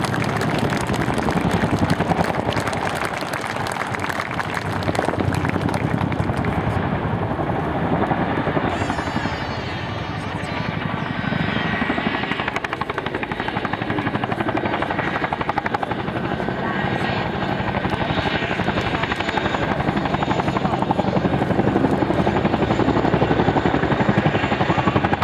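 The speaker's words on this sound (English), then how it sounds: "we're putting the Chinook down, I think, at the other end initially" Chinook twin-rotor helicopter landing and parking with its rotors running: a loud, continuous thudding roar with whine, close and unbroken throughout, while a commentator's voice is faintly mixed in.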